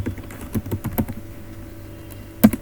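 A name is typed on a computer keyboard in a quick run of soft, close clicks, followed by a pause and one firmer keystroke like a key press near the end.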